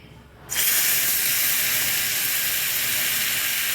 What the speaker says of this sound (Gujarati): હાઈ ફ્લેમ પર છે. અને આપણે જે લસણની પેસ્ટ બનાવી છે એ જ છે. હવે આપણે એડ કરી દઈશું.